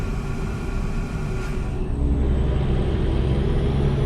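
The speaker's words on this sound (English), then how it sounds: "That was the air that you heard there just now." In Euro Truck Simulator 2 with a modded 725 hp engine, a heavy truck engine rumbles steadily, and a short hiss of air brake release rises above it midway, then fades to a thin whine.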